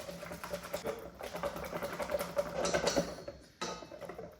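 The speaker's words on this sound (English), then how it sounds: "So I'm just gonna whisk these up till we get kind of nice, creamy texture." A hand whisk beats eggs and sugar in a bowl, making a quiet, rapid, steady clatter of wire against the bowl that pauses briefly near the end.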